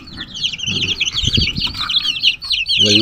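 Small chicks peep in a busy high chorus close by, with a hen's low clucks and a brief flutter; a voice speaks briefly underneath.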